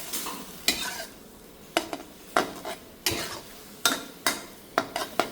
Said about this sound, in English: when you stir the noodle, use a corner